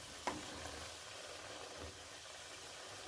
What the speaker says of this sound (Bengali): একদম নাড়তে থাকবো ডালটা দিয়ে অনবরত নাড়তে নাড়তে এটাকে একদম মুচমুচে করে ভেজে নেব